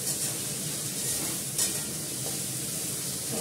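Mustard seeds fry in hot oil with a steady, close sizzle and fine crackling throughout, a faint clink of a pan or utensil partway through, no talk.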